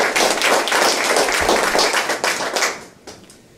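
Audience clapping for veterans in a crowd at a talk, dense and close for about three seconds before tapering off and fading.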